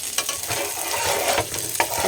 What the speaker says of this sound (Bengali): এটা আলাদা করে ভাজছি